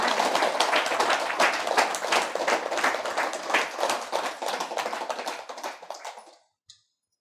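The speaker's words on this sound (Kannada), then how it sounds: "ಮೀನಾ ಸುಧೀರ್ ಅವರಿಗೆ ಜೋರಾಗಿ ಚಪ್ಪಾಳೆ" Loud, sustained applause from a crowd at a music and meditation gathering in Jayanagara, Bangalore, honouring organiser Meena Sudhir. Dense, continuous clapping fills the room and then stops abruptly near the end.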